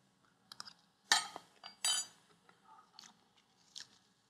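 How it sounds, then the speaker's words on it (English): Someone chews a Tunisian pastry filling while tasting it, making soft crunches and mouth noises close up, together with a few light clinks of cutlery against dishes, in a quiet kitchen. "I'd love to taste this."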